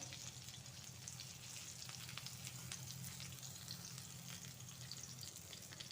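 Pointed gourd fries in hot oil with a steady, dense sizzle and crackle, close and continuous throughout, with no talking.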